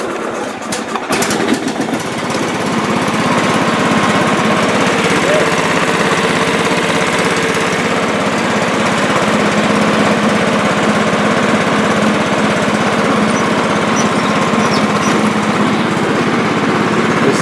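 A John Deere L110 lawn tractor engine runs steadily after carburetor repair, a loud continuous mid-pitched drone that holds without a break after a brief rough start, with faint talk in the background.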